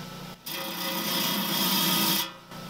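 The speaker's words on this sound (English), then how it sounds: "It grinds away at the stone, it doesn't cut." A handheld rotary tool spins up and grinds into porphyry stone containing agate, a close, high buzzing whine lasting about two seconds between short pauses, with the motor briefly restarting at the end.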